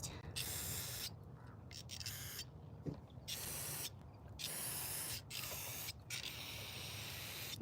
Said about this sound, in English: I'm gonna spray some gunk out on there and let it sit